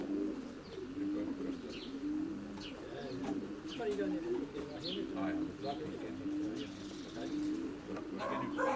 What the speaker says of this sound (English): Eric, thanks very much for letting me see the pigeons today.